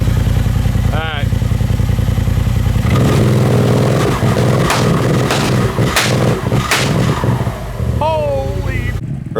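A Polaris RZR side-by-side engine idles while warming up: a low, steady rumble, then louder clattering revs and pops, with voices talking close by over it.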